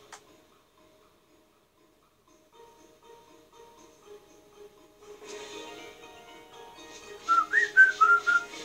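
A person whistles a short melodic tune over quiet Final Fantasy XII game sounds, starting softly and rising to several clear, loud whistled notes near the end.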